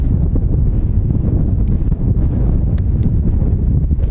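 Strong gusty wind on a golf course buffets the microphone, a loud, continuous low rumble with fluctuating gusts and no talking.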